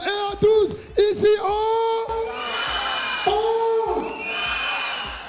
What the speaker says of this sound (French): On applaudit Chipsy, s'il vous plaît.